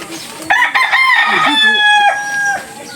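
A rooster crows loudly and close by, a long drawn-out call, while chickens cluck around it.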